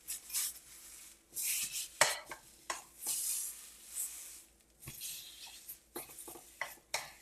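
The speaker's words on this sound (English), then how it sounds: "Stir in risotto." A utensil stirs and scrapes risotto around a pan in irregular strokes, with soft rubbing swishes and faint clinks, close and quiet, and no one speaking.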